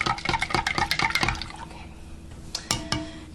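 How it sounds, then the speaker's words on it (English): A teaspoon stirs strong brewed iced coffee over ice, giving a quick rhythmic run of close clinks and liquid swirls that fades, followed by a couple of separate clinks. "Let's give that a stir."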